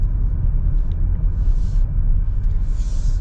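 A 2022 Toyota Avalon XLE in sport mode driving on the road, a steady low engine and road rumble heard from inside the cabin, with no talking.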